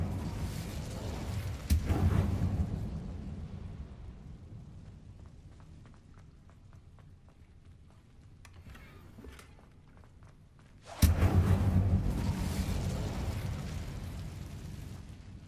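Two fire spell blasts, Confringo and Incendio, go off in the Hogwarts Legacy video game, each a sudden loud whooshing burst that roars and slowly fades, the second about nine seconds after the first.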